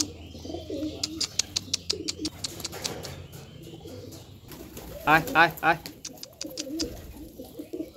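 Domestic pigeons cooing where they roost beside a nest with eggs, soft repeated low coos with a few chirps, under a person who calls to the birds with a repeated summoning word.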